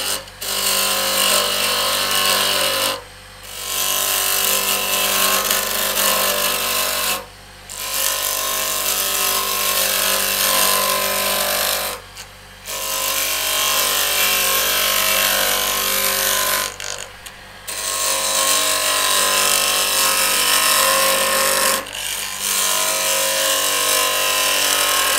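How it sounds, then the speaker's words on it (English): A 3/8 inch bowl gouge cuts a cherry burl spinning on a lathe at about 1450 RPM, giving a loud, continuous scraping hiss broken by several short pauses as the tool lifts off the wood. "The 3/8 inch bowl gouge."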